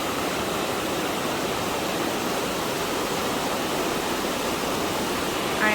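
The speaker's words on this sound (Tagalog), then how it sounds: "the water is flowing, going to Jordan, Galilee" Stream water at Tel Dan nature reserve in northern Israel flows in a steady, even rushing hiss, continuous and moderately loud, with no voices over it.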